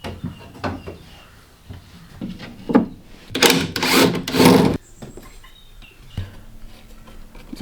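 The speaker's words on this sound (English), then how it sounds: "let's screw this in" A screw driven into a wooden batten during a houseboat build: scattered knocks and rubbing on wood, then a loud grinding burst of driving lasting just over a second, followed by quieter handling. No one speaks.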